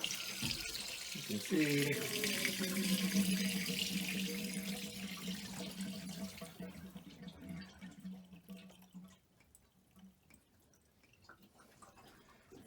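Water rushes out of shallow well pump pipes being drained for winter, a loud gushing stream with a low hum that gradually fades to a trickle. A voice speaks briefly.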